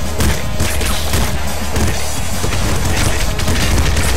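Explosions in the game Nuclear Throne erupt continuously, a dense loud barrage of booms and crashes running back to back with no pause and no talking.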